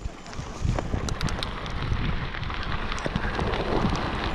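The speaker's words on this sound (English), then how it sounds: "it's raining harder now than it was earlier" Rain falls steadily through the night on a logging trail during a mountain bike ride, a dense hiss of drops with scattered sharper patters and some wind, continuous and fairly close, with no talking.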